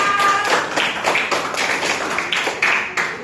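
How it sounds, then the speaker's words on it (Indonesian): Classmates clap for a student in a classroom lesson, a loose run of distinct, fairly close handclaps with an uneven rhythm, heard on its own without talk. "Kasih tepuk tangan untuk Hisan."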